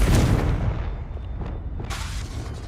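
A heavy blast booms from a Confringo spell cast in Hogwarts Legacy: a loud, close low-end burst at the start that rolls off into a rumbling decay, with a second crackling flare near the end.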